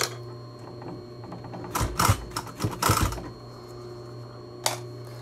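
A sewing machine stitches a pleat in a fabric mask in a couple of short bursts of rapid mechanical whirring, close and moderately loud, with quiet gaps and a low steady hum between.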